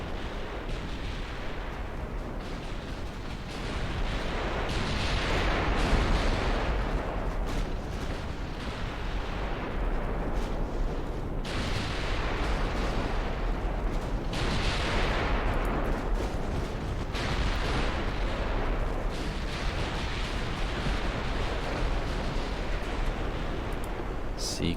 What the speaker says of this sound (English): it does feel good when you have all those battleship main guns unleashing